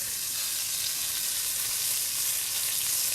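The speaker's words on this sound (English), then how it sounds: "So we're getting a pretty good sear." Chicken sears in a hot pan, a steady loud sizzle with constant crackling and hiss, no voices over it.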